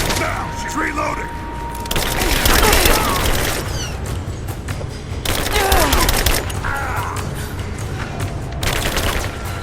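Rapid bursts of gunfire and cracking shots from a firefight in the video game Rise of the Tomb Raider, set in abandoned mines, come in loud waves with brief lulls, under shouted in-game dialogue.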